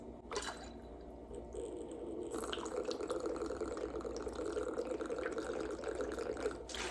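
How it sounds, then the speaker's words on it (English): Sweet and sour mix is poured into a margarita as a steady liquid stream that runs for several seconds, with light splashing and faint background noise. "we're gonna hit it with the sweet and sour. I say this last because it looks cool when you pour it."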